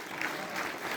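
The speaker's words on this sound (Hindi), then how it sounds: "बच्चों ताली आप बजाते रहें।" Schoolchildren at a Republic Day function at a government inter college clap together, a quiet, dense patter of many small hands heard from a distance for about a second.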